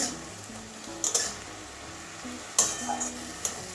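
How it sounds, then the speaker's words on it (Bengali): Bitter gourd and water spinach with a little turmeric are stirred in a pan over a soft, low sizzle, broken by a few sharp scraping strokes of the spatula at irregular intervals. The sounds are quiet and close, with no talking. "ভালো করে মিশিয়ে দেবো আবারও এরকম ভালো করে মিশিয়ে নিয়েছি"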